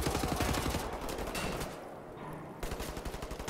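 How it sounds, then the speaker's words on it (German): Gunfire in the video game Wolfenstein: The New Order, with rapid automatic bursts hammering steadily throughout, a brief lull in the middle, then loud repeated shots again. "Kam gerade Schüsse von hinten oder so?"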